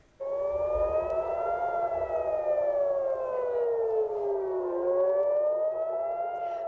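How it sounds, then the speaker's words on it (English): An air raid siren sounds in Tel Aviv, a loud, continuous wail that slowly rises, falls and rises again, steady and alone for the whole stretch. "Sirens sound in Tel Aviv"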